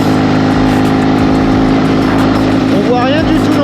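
A motorcycle engine drones loud and steady while the bike is ridden, a continuous close rumble with rushing wind noise and no break.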